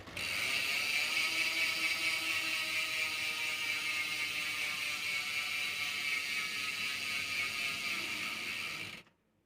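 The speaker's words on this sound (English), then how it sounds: "hub sound of my bike" Continuous close whir with a fine ratcheting click from a mud-spattered bicycle's freehub as the wheel spins freely, steady for about nine seconds before stopping abruptly; no talking.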